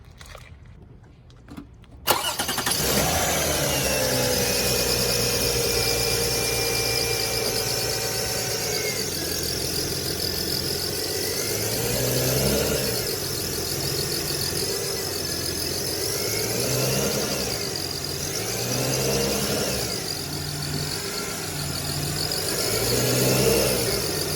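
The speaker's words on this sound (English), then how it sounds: "when I start the car up, we're gonna see it move" After a brief quiet moment, a Lexus ES 330 car engine cranks and catches, then idles steadily with a high whine running throughout.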